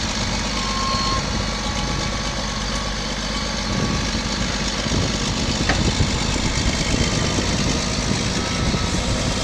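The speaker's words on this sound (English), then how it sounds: "Tractor cranks right up." A 2005 Caterpillar D6R LGP bulldozer's diesel engine runs steadily at idle, a loud, even low rumble with mechanical clatter and vibration throughout, no one speaking.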